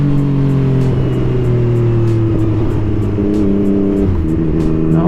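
Yamaha MT-09 motorcycle engine held at steady high revs with a rising pitch through a small wheelie, loud and close with a continuous drone and no talk.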